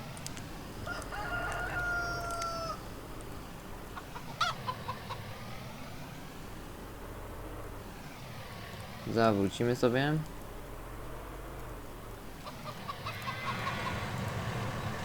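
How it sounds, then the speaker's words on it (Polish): Chickens cluck and a rooster crows on a farm in a truck-driving farm simulation game, mixed with engine hum and game sounds while someone talks over them. "Trzeba omijać te kury, bo ich tutaj pełno łazi."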